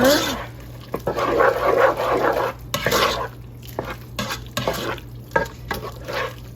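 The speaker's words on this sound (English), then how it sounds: "Give that a quick stir." A spoon stirs turkey taco soup in a pot, giving a few quick scraping, sloshing strokes in the foreground, broken by short pauses and some faint background noise.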